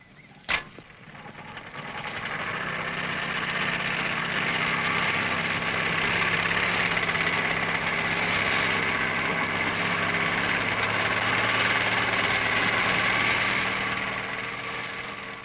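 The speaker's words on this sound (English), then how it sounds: "the Land Rover can winch itself out of the thickest mud" A Series 2 Land Rover runs its hydraulic drum and cable winch to haul itself out of thick mud, a sustained mechanical engine drone that swells after a sharp click and holds steady.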